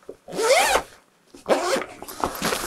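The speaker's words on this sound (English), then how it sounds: "zip it up" A zipper drawn shut on a soft mallet bag for gong and vibe mallets, two quick close zipping strokes separated by a brief pause, near and clear with no talk.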